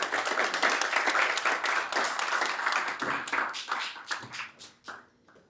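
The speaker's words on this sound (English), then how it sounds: "Let's give them a round of applause." Students of a secondary school get a round of applause at a student leadership conference: dense clapping from a sizeable audience, steady for about four seconds, then thinning into scattered claps that fade out.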